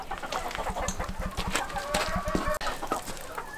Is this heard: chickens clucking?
yes